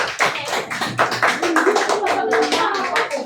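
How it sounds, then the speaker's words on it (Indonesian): Classroom applause for group Bali in a fifth-grade Pancasila lesson, a lively patter of many children's hands clapping close by in uneven rapid bursts, with a few young voices under it. "Kasih tepuk tangan dulu untuk kelompok Bali."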